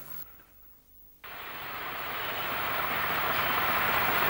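Preserved diesel locomotive 2166 on the Bodmin and Wenford Railway in Cornwall, working a service to Bodmin Parkway near Charlie's Gate, approaching with a broad rumble that suddenly swells and keeps growing louder and closer.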